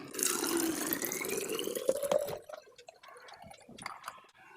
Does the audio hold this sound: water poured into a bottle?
yes